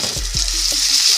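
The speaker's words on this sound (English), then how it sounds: "Listen to that sizzle" Steak frying in olive oil in a hot pan, a bright steady sizzle close up with a few soft clicks of tongs, no one speaking.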